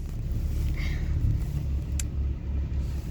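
Inside a moving car, a steady low engine and road rumble fills the cabin continuously, with a brief faint click partway through and no speech.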